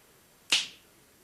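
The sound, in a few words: finger snap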